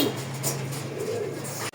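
Desi gola pigeons in a cage give a low, soft cooing over a steady background hum, close and fairly quiet.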